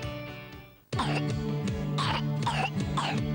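Several sharp coughs burst out in quick succession over steady background music, loud and close.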